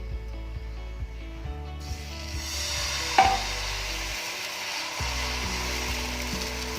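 Semolina uttapam batter sizzles on a lightly oiled hot tawa, a steady soft frying hiss with a spoon scraping and tapping rhythmically as it is spread.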